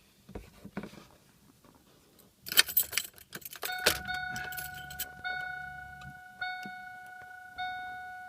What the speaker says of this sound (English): I've got the key in the ignition and let's take a look at what happens here.